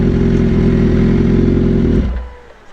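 A motorcycle engine revs hard and steady at close range at a crowded bike meet, holding a loud drone for about two seconds before dropping off to a quieter idle.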